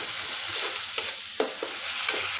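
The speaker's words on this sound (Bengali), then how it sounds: "এখন মশলাটা ভালো করে কষে নিতে হবে" Tadka masala with its packet rinse water is stirred and cooked down in a pan for a sprouted moong dish, a constant sizzle punctuated by three or four crisp spatula scrapes, close and without speech.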